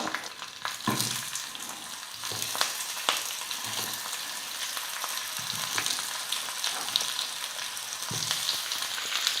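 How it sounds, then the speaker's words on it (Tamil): Raw plantain pieces frying in oil with mustard seeds, cumin and curry leaves: a soft, continuous sizzle with repeated spatula scrapes and knocks at irregular intervals, close by and with no talking. "ஒரு நிமிஷத்துக்கு வந்து எண்ணெயிலேயே நல்லா வறுத்துக்கலாம்"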